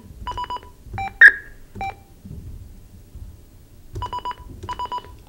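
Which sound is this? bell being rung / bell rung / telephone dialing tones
telephone dialing tones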